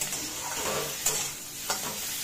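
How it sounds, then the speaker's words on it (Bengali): Prawn heads fry and are stirred in a pan, giving a steady close sizzle with brief scraping clatters of the utensil, and no voices. "এবার এটাকে লাল লাল করে ভাজা হয়ে গেছে"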